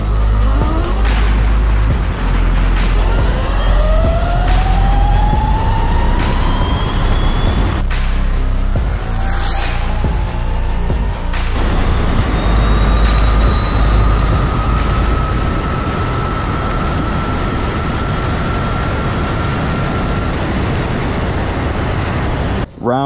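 An electric vehicle with a TruMoto VESC controller on a drag test run: a high motor whine rising steadily in pitch through repeated climbs, with loud wind and road roar throughout and no speech.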